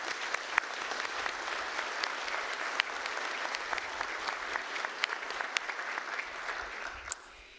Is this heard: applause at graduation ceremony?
yes